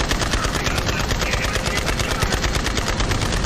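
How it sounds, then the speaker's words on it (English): Vehicle-mounted machine gun firing in Borderlands 3, a dense, continuous rapid burst of loud shots with no pauses. "just machine gun"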